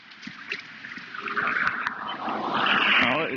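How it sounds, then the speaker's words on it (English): A 1Plus S10 electric scooter pulling away from a standstill, its motor giving a rising whine that builds over a few seconds amid outdoor rumble and light clatter. "Just going from 0 makes the battery make that sound, or motor make that sound."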